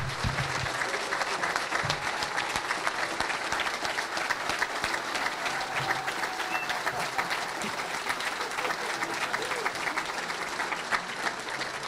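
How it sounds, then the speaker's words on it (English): Sustained audience applause at a ham radio contest closing ceremony, steady dense clapping throughout from a crowd, with faint voices underneath. "So, round of applause for Mark."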